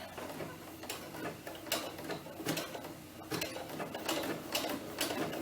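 A sewing machine runs an overcast stitch along the edge of a doll T-shirt, a fast faint mechanical ticking and whirring with uneven pauses and restarts.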